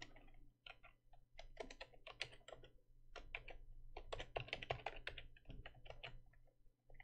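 Fast, steady typing on a computer keyboard, close and fairly quiet, with dense clusters of key clicks and brief pauses, entering a short word into code; no talking.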